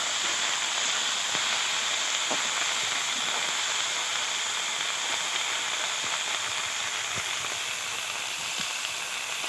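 Vegetables frying in a pan with salt and turmeric make a continuous, even sizzle, with occasional soft ticks and pops beneath the hiss.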